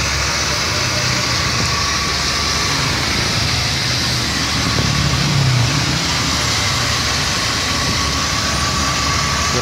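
A steady 3000 cc petrol engine of a 1995 Mercedes-Benz G300 fitted with an HHO fuel saver rumbles at an even level throughout, with a constant hum and no speech.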